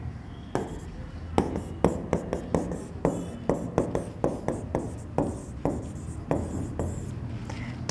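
Chalk or marker writes on a board during a physics lesson on simple harmonic motion, a string of short sharp taps and strokes in an uneven rhythm, close and fairly quiet.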